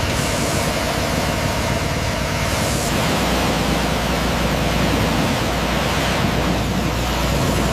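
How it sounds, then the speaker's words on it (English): A power washer sprays in a steady, loud, broadband hiss that never lets up, with a low hum beneath, blasting moss, mud and loose rust off an abandoned Porsche 911 GT3. "fire up the power washer, blasting away the thick moss, mud, and loose surface rust"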